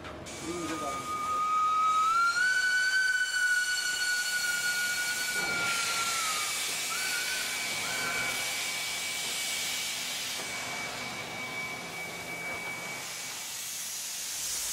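A steam locomotive on an Indian railway gives a long, loud whistle that slides slightly in pitch, followed by a sustained broad hiss of escaping steam.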